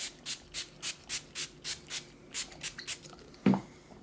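A dozen short hissing spray bursts onto a leather glove in a steady rhythm, close by, followed by a soft rubbing thump near the end.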